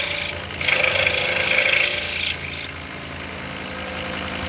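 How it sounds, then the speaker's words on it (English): A mortise being cut in wood with a power tool, a loud rasping, whining cut that runs about two seconds, stops briefly and resumes shortly, then gives way to a low steady background hum. "So we're cutting a mortise right now"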